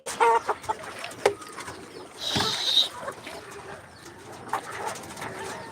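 Black karinkozhi chickens cluck in short, scattered bursts, with a brief higher call in the middle and quieter farmyard noise between them.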